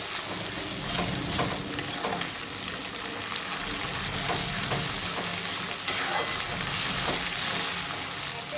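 Boiled onion paste fries in a pan for a katla rezala, giving a dense continuous sizzle broken by repeated scraping and stirring strokes.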